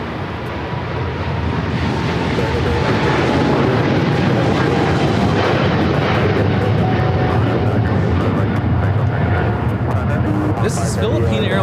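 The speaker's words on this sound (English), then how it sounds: "Philippine Airlines Flight 113 taking off to Manila on the 777-300ER." A Philippine Airlines Boeing 777-300ER departs LAX, its heavy jet-engine roar building and holding at a strong, steady level, with some wind buffeting the microphone.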